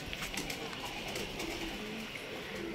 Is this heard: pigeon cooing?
yes